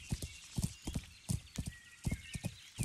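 Horse hooves clip-clop in a steady walking rhythm through a village in the medieval game Kingdom Come Deliverance, fairly close and clear, with an occasional soft snort and no talking.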